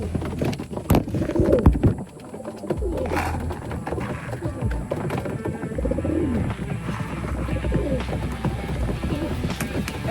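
A rescued pigeon coos in soft, low, repeated phrases close by, mixed with faint rustling and clicking handling noises outdoors.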